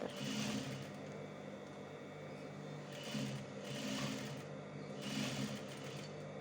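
A sewing machine stitches a narrow seam while replacing a zipper in a sweater, a steady close mechanical hum and rattle with slight surges in speed, heard alone.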